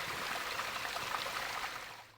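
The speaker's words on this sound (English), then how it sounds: "As little or no rain had fallen recently, it was only a trickle." Te Wairere waterfall near Kerikeri in the Bay of Islands, reduced to a trickle after a dry spell, gives a steady close splashing wash of water that fades out at the end.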